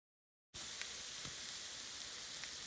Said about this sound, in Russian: ну вот лук уже жарится